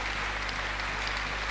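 A congregation claps during a church miracle service. The applause is steady and fairly faint, a continuous patter of many hands for a brief moment, with no speech.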